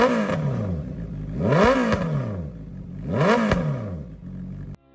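A motorcycle fitted with an aftermarket exhaust revs hard twice, each blip rising sharply and falling back to a rough, loud idle, close to the bike, before the engine cuts off at the end.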